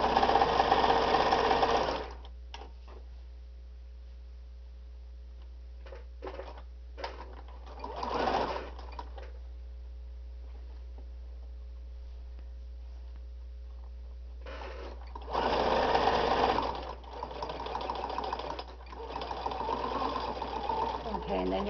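Sewing machine stitching a microwave bowl holder, running in close, steady bursts of rapid needle chatter with quiet pauses between, and a short stretch of quieter, intermittent stitching in the middle.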